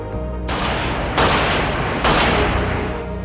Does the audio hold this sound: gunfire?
yes